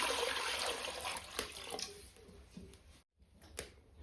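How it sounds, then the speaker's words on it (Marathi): Water splashes and trickles steadily into a pot set on a wood-fired chulha for boiling potatoes, close but soft, fading toward the end after a brief gap, with no talking. "बटाटे उकडण्यासाठी पातेल्यामध्ये पाणी ओतून घेते"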